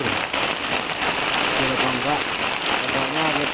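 Heavy tropical downpour soaks an angler out casting for fish, a loud steady wash of rain hissing without a break, close and enveloping, with faint speech murmuring underneath.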